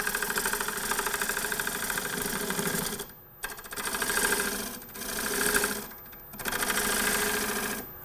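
A scraper cuts wood from a three-foot natural-edge bowl spinning on a lathe, giving a loud, buzzing rattle in sustained passes broken by short pauses as the tool lifts off.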